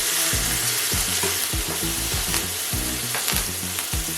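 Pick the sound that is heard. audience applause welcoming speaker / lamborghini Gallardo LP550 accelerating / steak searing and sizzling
steak searing and sizzling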